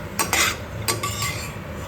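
Roasted almonds being scooped out of a pan make a few clinking scrapes of a metal spoon against the pan over a faint background sizzle.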